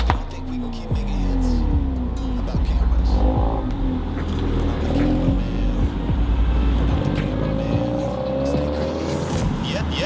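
A car fitted with a modified Milltek exhaust revs loudly up close, its engine note rising and falling in rough, throaty sweeps for about ten seconds, with no talk over it.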